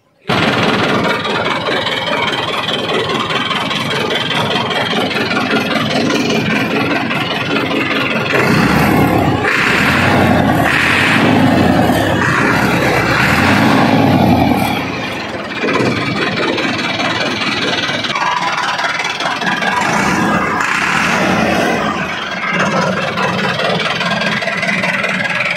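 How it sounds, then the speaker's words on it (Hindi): A 2021 Massey Ferguson 375 tractor in good condition runs loud and close, its engine chugging steadily throughout with a rougher, heavier surge in the middle before settling back to a constant idle. "इंजन स्टार्ट करके आवाज़ भी चेक करा देने"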